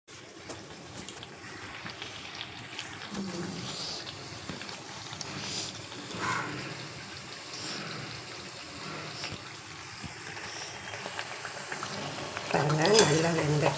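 Jackfruit seed vadai frying in hot oil, a soft steady sizzle with occasional clinks of a pan and utensil, moderately close, rising into a sharper crackle near the end.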